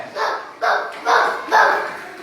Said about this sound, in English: Suddenly the dog came there.